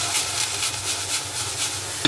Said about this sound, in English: Just cook off the onions.